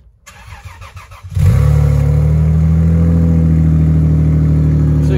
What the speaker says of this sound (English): Here's your cold start.